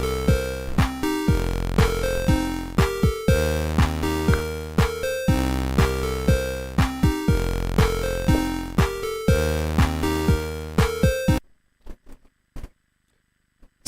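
Retro chiptune-style electronic music built in SuperCollider plays loudly, with a steady pulsing bass, punchy beats and bright synth melody repeating in a loop for about eleven seconds before stopping abruptly into near silence.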